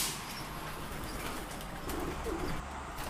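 Pigeons heard close by, with soft cooing and bursts of wing flapping over a steady background hum.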